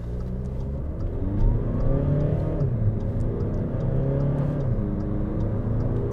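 Audi A3 sedan accelerating hard in sport mode, its engine revving steadily and loudly at close range with rising pitch sweeps as it gathers speed, no talk over it.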